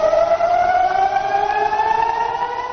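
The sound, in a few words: sirens sounding in northern Israel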